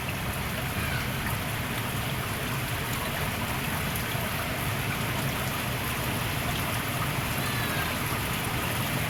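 Heavy, steady rain pouring down over open rice paddies in a village, a dense continuous hiss of drops and trickling water held at one even level with no break throughout.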